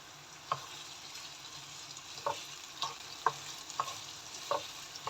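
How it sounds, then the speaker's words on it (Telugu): Ginger and green chillies frying in a pan, a soft, fairly quiet sizzle with a few scattered light taps and pops of a spoon or spatula against the pan. "ఫస్ట్ మనం అల్లం పచ్చిమిరపకాయలు అయితే వేసుకుని ఫ్రై చేసుకోవాలి"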